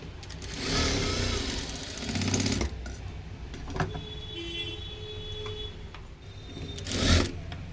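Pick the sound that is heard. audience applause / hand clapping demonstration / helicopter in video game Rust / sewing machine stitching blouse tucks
sewing machine stitching blouse tucks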